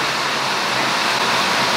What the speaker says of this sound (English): it's literally pouring rain right now